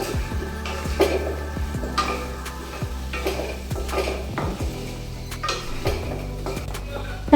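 A spoon stirs turmeric into hot oil in a pan for mango pickle, clinking and scraping against the metal in a repeated rhythm over a faint sizzle, close by.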